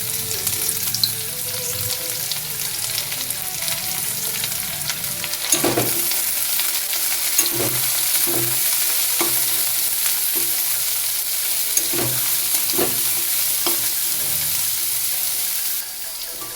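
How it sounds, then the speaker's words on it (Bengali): Cabbage frying with peas and diced potatoes in an oiled pan gives a continuous hissing sizzle, punctuated by repeated scraping strokes and knocks of a spatula, close and without speech. "এবার বাঁধাকপিটা দিয়ে দিচ্ছি"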